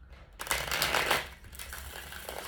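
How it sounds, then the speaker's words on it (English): A deck of tarot cards being shuffled, a quick riffle with papery flutters and crisp bursts, close and fairly loud, with no voices. "Let's get one more shuffle."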